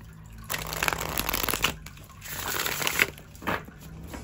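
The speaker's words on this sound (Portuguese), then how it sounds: "Vamos embaralhar. Embaralha super bem, ó." Tarot cards being shuffled close up, giving riffling, rustling bursts separated by brief pauses, soft and intermittent.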